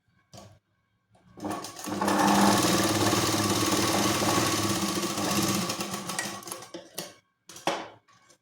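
A sewing machine runs a long steady burst while stitching a katori blouse, its close, loud rapid chatter rising after a few short taps and tapering into scattered clicks and handling noises.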